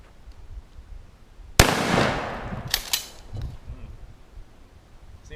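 A single loud shotgun blast at a wooden target rings out sharply, followed by a scatter of splintering, crackling debris and a couple of smaller pops as the echo fades.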